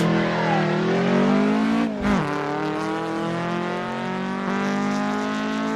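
A 1989 Toyota MR2 with 266 horsepower accelerates hard on a test track lap, its engine note rising steadily through the gears with a brief dip at a shift, loud and close with no talk.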